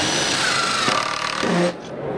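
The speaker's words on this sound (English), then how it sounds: "Run your drill at full speed and just follow it on down." A power drill runs at full speed driving screws into deck boards with concealed fasteners, a continuous close whirring that cuts off abruptly near the end.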